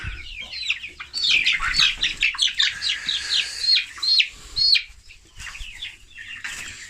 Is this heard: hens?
yes